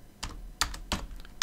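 Someone types an IP address on a computer keyboard, producing four crisp, close keystrokes at an uneven pace in a quiet room.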